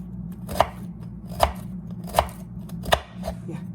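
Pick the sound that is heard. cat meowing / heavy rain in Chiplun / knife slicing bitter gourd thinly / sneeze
knife slicing bitter gourd thinly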